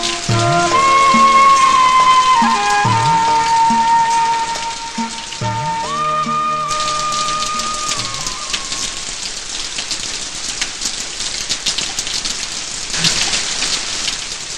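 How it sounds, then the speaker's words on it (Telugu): Heavy rain pours steadily in a film scene, a dense continuous hiss with faint rumbles and sustained whistling or musical tones layered over it in the first half. "ఓరి దేవుడా, ఈ వర్షం ఏంటి ఇలా పడుతుంది?"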